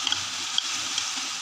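Spice paste dropped into a little hot oil already holding fried masala, giving a loud, close, continuous sizzle with faint crackles and no voices.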